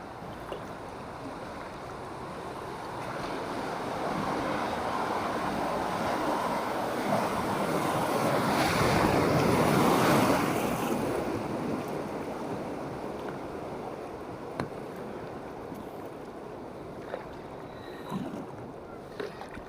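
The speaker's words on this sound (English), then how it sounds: "it is rapids I can hear" River rapids rushing past a solo kayak on a shallow winter river, a steady loud wash of churning water that swells to a peak midway and then eases, with occasional knocks against the hull.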